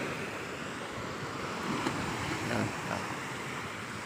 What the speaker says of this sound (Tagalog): Ganda ng alon, no?